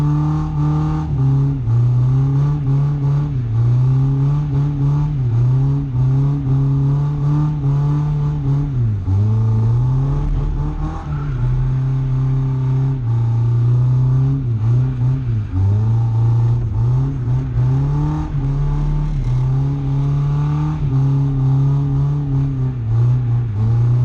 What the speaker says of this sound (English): whenever you're ready, build the revs up